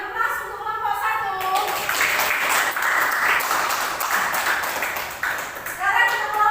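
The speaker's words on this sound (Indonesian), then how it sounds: "Kita beri aplaus untuk kelompok 1." Classroom applause for a presenting student group during a school lesson, a steady wash of clapping hands lasting several seconds, with children's voices audible at the start and end.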